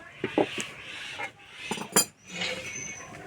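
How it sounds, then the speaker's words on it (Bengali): A clay pan is set onto a village stove, producing a few close, dull knocks and scraping clinks of earthenware against metal, spread over a few seconds. "এখানে একটা মাটির সরা নিয়েছি উনানে বসিয়ে দেবো"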